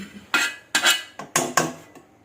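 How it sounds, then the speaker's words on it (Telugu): A spoon mixes a tempering into gongura leaf pickle in a metal pot. About five loud scraping clinks land in an uneven rhythm and trail off more faintly at the end. "మొత్తం కలిసేటట్టు కలుపుకోవాలి"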